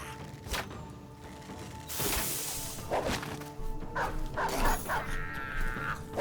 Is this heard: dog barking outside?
yes